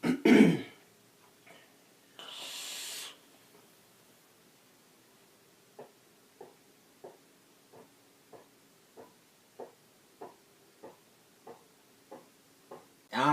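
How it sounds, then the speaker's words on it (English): Soft coughs at the start, then a string of short, sharp, evenly spaced coughs in quick succession, with a louder burst at the very end. "Hard cough."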